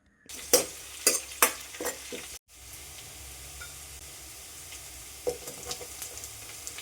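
Green chillies fry in beef roast masala with curry leaves, sharp scraping stirs at the start, then a continuous low sizzle with an occasional spoon tap.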